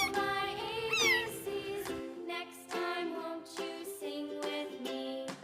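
A cat meows repeatedly in a bright, tonal series of calls, clear and close, set against a light musical backing with no talking.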